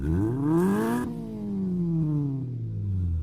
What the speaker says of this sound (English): The car engine suddenly revved.